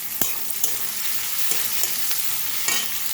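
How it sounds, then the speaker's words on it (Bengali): Garlic and slit green chilies frying in a pan, a close steady sizzle broken by several sharp clinks of a spatula stirring against the pan. "রসুন আর চিড়ে রাখা কাঁচা লঙ্কাগুলো দিয়ে আমি হালকা করে আবার মিনিট 2 মতো এটা ভেজে নেব"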